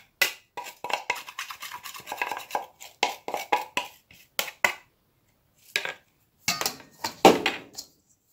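A spoon works through pumpkin chocolate cake batter made with coconut oil in a bowl, giving quick irregular scraping and tapping strokes, close and crisp, with short pauses between bursts and no talking.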